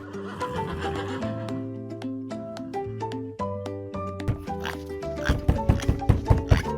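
A brown horse with a woman riding it gives a long, loud quavering whinny, followed by a quick run of sharp rhythmic thuds toward the end.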